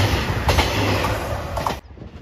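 A JR Shikoku 2700 series limited express diesel railcar on the Kotoku Line passes close by with a loud, steady rumble and wheel clatter that cuts off sharply as the train clears.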